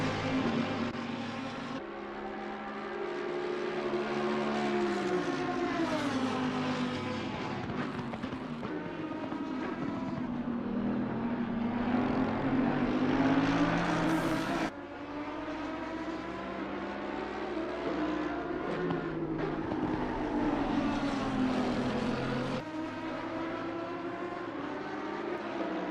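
Race car engines roaring around the Monza circuit in a racing video game, a steady loud whine that rises and falls with gear changes and passing cars for the whole stretch.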